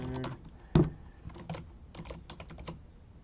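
Keys clatter on a computer keyboard while a password is entered: a quiet, uneven run of separate taps with one sharper, louder press near the start.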